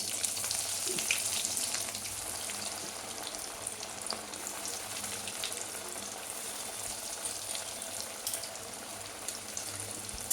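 Lotia fish chops frying in well-heated oil in a wok, a steady close sizzle with broadband crackle and occasional pops running throughout, no voices.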